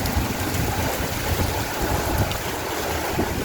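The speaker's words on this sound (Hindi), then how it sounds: "बारिश कितनी तेज है।" Heavy monsoon rain pours down in a dense, steady roar with no talking.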